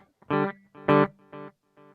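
Four short electric guitar notes through a digital delay pedal with no reverb, distorted and echoing, each cut off cleanly with silence between and no lingering wash.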